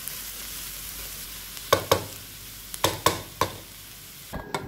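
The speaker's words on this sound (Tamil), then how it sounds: "இந்த பச்சை மிளகாயும் வெங்காயத்தையும் நான் கண்ணாடி பதத்துக்கு நல்லா வதக்கி எடுத்துக்கிறேன்" Green chillies and onions sauté in a pan for a chutney with a soft sizzle, punctuated by several sharp scrapes and clacks of a stirring spoon.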